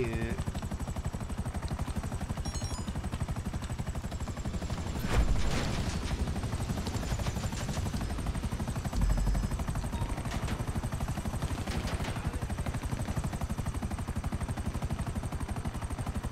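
Helicopters arrive in the video game GTA 5 with a constant chopping rotor drone through the scene, joined by a couple of louder bursts that may be gunfire.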